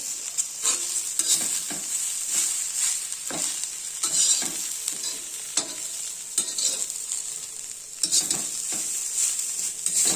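Bharangi greens are stir-fried in a pan, giving a bright continuous sizzle marked by repeated scraping stirs in an uneven rhythm, close and fairly loud, with no talking.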